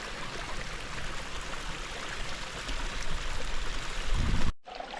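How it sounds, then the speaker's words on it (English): A moorland stream in a valley in Northumberland National Park rushes and gurgles steadily and close by, a constant wash of flowing water that swells briefly near the end before cutting off. "it's nice with the sound of the water"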